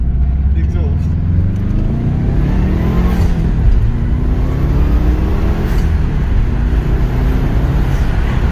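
A turbocharged Subaru Impreza WRX hatchback's engine, fitted with a Mishimoto air intake, drones and revs under steady road noise, pitch rising and falling, with people talking throughout.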